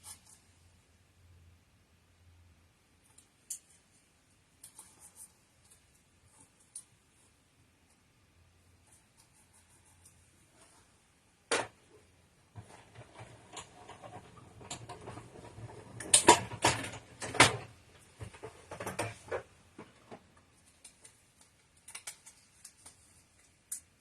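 A Stampin' Up! Cut and Emboss machine cutting paper makes a short burst of close mechanical clicking and grinding, with quiet ticks and handling noise before it.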